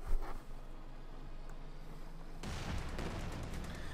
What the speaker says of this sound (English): There's Pioneers getting bombarded there.